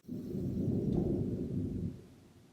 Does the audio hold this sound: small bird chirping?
no